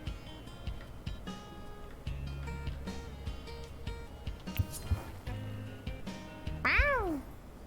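A cat meows in the video game Boyfriend Dungeon, a short rising-and-falling call near the end over a steady backdrop of game music and ambience.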